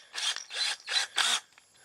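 A drill fitted with a 500-grit sanding pad scuffs across a car headlight in four rhythmic rasping passes, close and gritty, then falls quiet.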